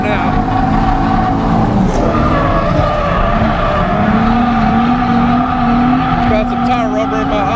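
A Nissan 350Z drifting at a drift event, its engine droning loud and steady with a rising pitch line and continuous tire skid noise throughout, close and unbroken.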